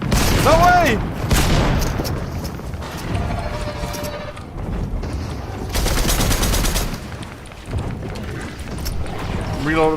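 Bursts of weapon fire and booming impacts in the video game Fortnite, loud and uneven, with clusters of shots separated by quieter gaps.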